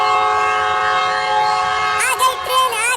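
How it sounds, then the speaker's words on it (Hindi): An arriving train sounds a long, loud, sustained horn blast, joined near the end by a rising, warbling whistle. "आ गई ट्रेन, आ गई ट्रेन"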